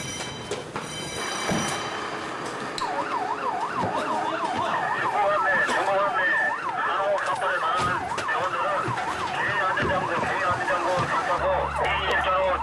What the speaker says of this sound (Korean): 또다시 울리는 사이렌.